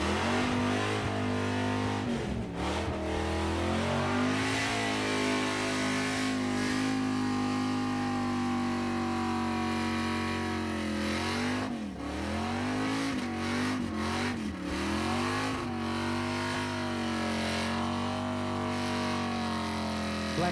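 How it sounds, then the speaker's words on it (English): A black VB Commodore performs a burnout at a car festival's burnout eliminations, its engine droning hard and steadily at high revs for a long stretch, with sharp dips and surges as the throttle blips, loud and close. "Black VB Commodore, very angry in the engine."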